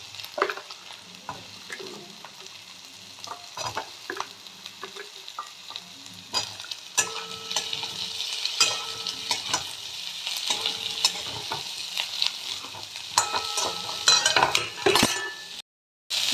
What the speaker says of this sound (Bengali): একটু ভেজে নেব, পেঁয়াজগুলো নরম করে নেব। এবার দিয়ে দেবো কপিগুলো।